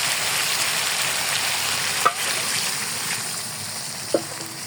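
Steady loud sizzling of chicken frying in a pan, with a couple of sharp scraping clicks as it is stirred.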